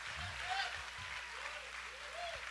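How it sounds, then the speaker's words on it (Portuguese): Church congregation applauding during a Sunday evening service, a soft, steady spread of clapping from the gathering with voices speaking over it and a low thump near the end. "Quem é a igreja, dá um aplauso aí"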